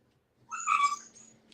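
A cat lets out a single moderately loud, drawn-out meow close by, with a faint low hum underneath and no talk.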